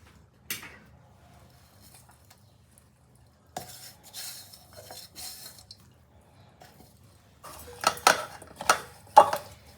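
Cucumber pieces are mixed by hand or spoon with groundnut oil and spices in a bowl, giving intermittent wet squelching and clinking bursts separated by quiet gaps, close up, growing busier toward the end.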